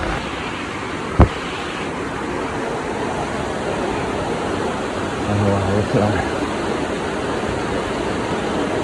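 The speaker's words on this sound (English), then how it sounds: "There are two different waterfalls from two different sources, but just happen to be in the same place." Papa Falls, a waterfall in the Dominica rainforest, pours in a steady, dense roar that fills the whole clip, with one sharp knock early on and a person briefly speaking over it.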